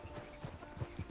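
Horse hooves clopping in a PS5 video game, a handful of soft, close hoofbeats in an uneven rhythm over a low background hum.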